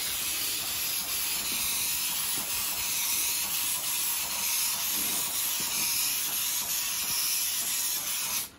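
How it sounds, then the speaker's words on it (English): Spray adhesive hissing steadily from an aerosol can onto carpet during a vehicle interior fit-out of rear seat drawers and cupboards, a continuous close broadband hiss lasting several seconds before cutting off at the end. "I've just been spraying it all the way over the top edge of whatever you're covering."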